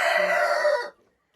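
A rooster's crow rings out loud and near, holding a long drawn-out note before cutting off into silence, among a flock of hens.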